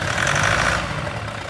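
A damaged Toyota D4D diesel engine, blown after towing a trailer at highway speed, runs with a steady rough, low rumble and no voices over it.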